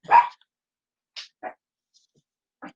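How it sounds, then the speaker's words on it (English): Dogs barking indoors: one loud, sharp bark up front, then three short, fainter yelps spaced apart, with quiet gaps and no talking between them. "Dogs are going to bark, folks."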